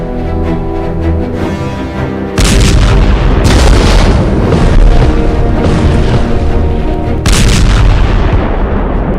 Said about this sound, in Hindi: इजराइल का triple attack, Yemen, Tehran, Gaza में धमाके